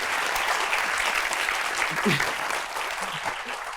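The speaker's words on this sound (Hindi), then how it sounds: "तालियां जी एजाज भाई के लिए।" A studio audience on a television talk show claps steadily and densely for the whole stretch, with faint voices mixed in beneath it.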